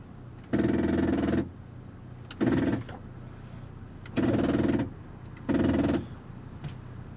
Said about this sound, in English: the chattering sound you're hearing is the gear that actually puts down the top